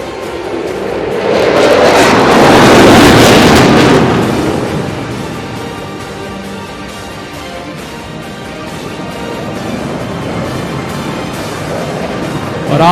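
A Solo Türk jet loops over a Pakistan Day parade ground, its roar swelling loud through the first few seconds, then fading to a steady, more distant rumble.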